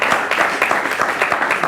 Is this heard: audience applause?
yes